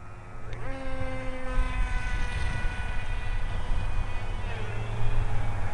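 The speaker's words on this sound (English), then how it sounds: "Just don't like the sound of the engine. Kind of sputters to me." An AXN Cloud model airplane flies overhead, its small electric motor droning with uneven, sputtering pitch shifts, moderately loud and fluctuating against outdoor background.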